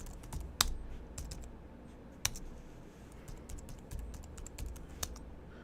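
Someone types on a computer keyboard in short irregular bursts of crisp keystroke clicks, with a few sharper key taps standing out over a quiet room, close by, with no talking.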